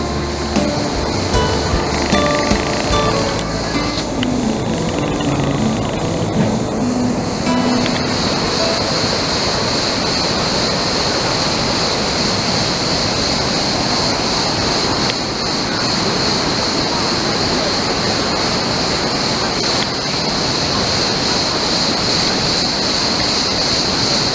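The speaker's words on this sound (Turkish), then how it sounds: "Burası Gülden Şelalesi." Düden Waterfall in Antalya, Kepez, flowing water as a steady, dense roar of rushing, cascading water that fills the scene continuously, with a few brief tones early on.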